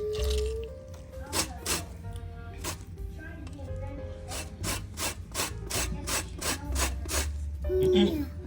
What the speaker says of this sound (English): we trying to get the zest of the lemon